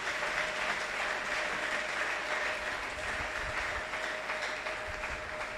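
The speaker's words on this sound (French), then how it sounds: "Est-ce que tu peux applaudir là où tu es?" A church congregation applauds in a steady, even stretch of clapping heard from within the room, with no voice over it.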